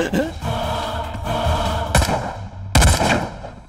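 Two sharp gunshot bangs ring out close together in a Hindi-dubbed action film scene, cutting through a tonal, dramatic background.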